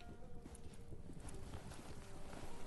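Horse hooves clatter in quick, steady clip-clop as a mount arrives in the Biomutant video game, dense and fairly loud over a busy game soundscape.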